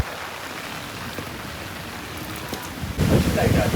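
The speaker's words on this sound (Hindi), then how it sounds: "तूफान आ चुका है, तूफान।" Stormy rain roars as a steady wash of noise, swelling much louder toward the end as the downpour intensifies during an outdoor shoot, with people's voices faintly mixed in.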